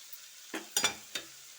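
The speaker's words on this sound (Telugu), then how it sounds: "ఒక అర నిమిషం వేగిన తర్వాత తరిగి రెడీ పెట్టుకున్న సొరకాయ ముక్కలు" Bottle gourd pieces go into a hot pan of oil, a few short bursts of sizzling and stirring close by against near silence.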